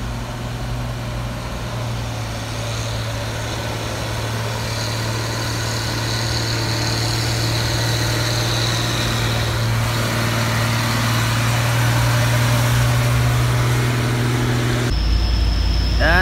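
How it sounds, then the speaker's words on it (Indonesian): A brown Fuso 6x4 truck labours up the steep winding Bukit Kodok hill, its diesel engine a steady low drone that grows slightly louder before cutting off abruptly near the end. "Truk coklat 6 Fuso 6x4 ya."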